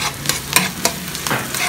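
Garlic sautés in a hot pan for Ilonggo-style valenciana, with close, bright sizzling and several sharp stirring scrapes coming in quick irregular bursts.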